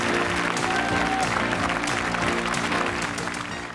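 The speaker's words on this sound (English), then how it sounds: "Give them a nice round of applause." Studio audience applause for game show contestants at the close of a 1986 TV game show, dense clapping over bright theme music with a steady beat, continuous and loud.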